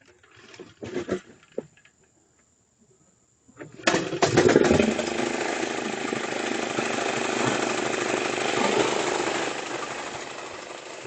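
Toro TurfMaster lawn mower with a freshly cleaned carburetor: a few faint pulls and sputters, a pause, then the engine catches and settles into a loud, steady running drone up close.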